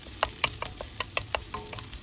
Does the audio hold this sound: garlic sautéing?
yes